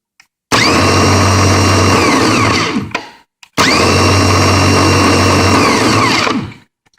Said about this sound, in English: turn on the ignition switch, the starter motor should energize